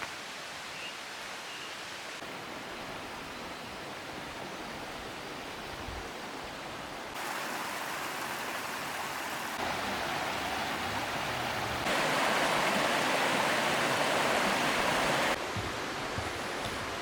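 A mountain creek in the Great Smoky Mountains along a rocky trail, rushing water as a steady broadband hiss that grows somewhat louder in stages, with no voices.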